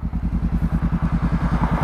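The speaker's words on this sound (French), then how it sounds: "Un petit tour de cette moto." A Honda CB500X motorcycle fitted with a replacement exhaust rides by with an engine that throbs in fast, even pulses. It is close and fairly loud, steady throughout, and no one speaks.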